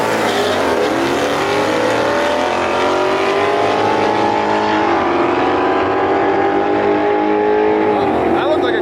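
A drag race car roars through a quarter-mile pass at full throttle, its engine note climbing steadily as it accelerates, loud and continuous from start to finish.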